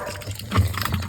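Water pours into a jerrycan at a mountain village spring in Uttarakhand, a short, close burst of splashing and gurgling fill with no talk.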